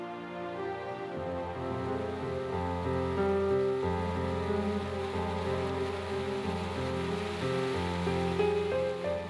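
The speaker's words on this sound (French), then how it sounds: "quand la pluie tombe dru" Heavy rain pours down on a troop of baboons at Singapore Zoo, a steady, even hiss beneath a sustained tonal music bed.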